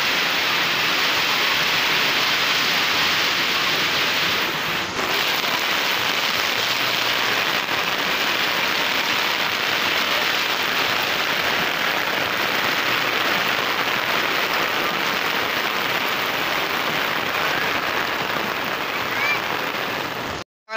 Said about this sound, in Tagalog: Sobrang lakas ng ulan, baha na talaga oh.